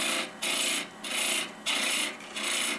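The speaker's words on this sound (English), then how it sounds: "Nice little chisel cuts." A small chisel paring wood in four short, even scraping strokes with brief pauses between, close and fairly loud.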